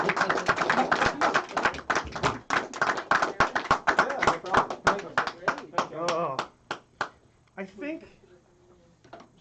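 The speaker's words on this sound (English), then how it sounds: "So keep clapping. Keep clapping. Keep clapping." A crowd claps in a dense burst that gradually thins to scattered claps, with people talking and calling out through it.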